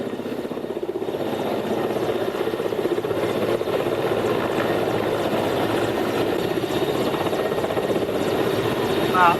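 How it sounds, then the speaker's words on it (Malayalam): An Indian Air Force helicopter at a Wayanad landslide rescue site gives a loud, steady rotor and engine roar that runs unbroken throughout, with voices faintly beneath it. "അല്പസമയം മുമ്പാണ് ഇന്ത്യൻ എയർഫോഴ്സിന്റെ ഒരു ഹെലികോപ്റ്റർ ഇവിടേക്ക് വന്നത്"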